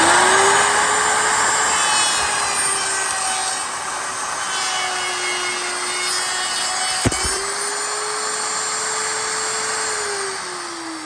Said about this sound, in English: make sure the router's on away from the wood